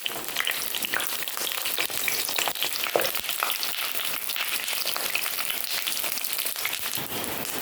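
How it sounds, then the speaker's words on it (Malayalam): Brinjal frying in sesame oil makes a dense, even crackling sizzle like rain that runs unbroken for several seconds, close and steady, with no one talking. "നമുക്കതിലേക്ക് നമ്മുടെ ഈ വഴുതനങ്ങ ഇട്ടൊന്ന് ഫ്രൈ ചെയ്തെടുക്കാം."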